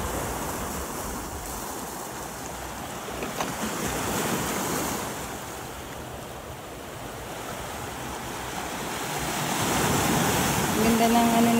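Sea waves wash against the foot of a cliff on Tung Lung Chau island, a steady broadband roar of surf with wind buffeting the microphone, swelling louder near the end; a voice speaks briefly.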